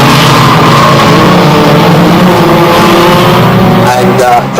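Banger racing cars roar past on an oval track, a loud continuous wall of engine noise with revving, close and dense, and a commentator talking over it.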